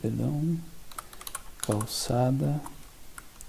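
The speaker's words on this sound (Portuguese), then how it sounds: "eu vou escrever aqui calçada" Keyboard typing on a computer while drafting annotative text labels in a CAD topographic drawing, a quick run of light clicks scattered between a man's spoken words.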